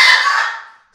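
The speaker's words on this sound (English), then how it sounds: "We have three macaws that like to compete with my voice." Close, loud bird squawk from one of three macaws, a single harsh call that fades out within a second, heard alone in a conifer garden.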